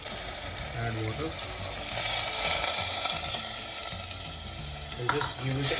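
Dal and lamb stirred with water in a cooking pot, a steady wet sizzling and scraping that runs throughout with faint clatter, no voices.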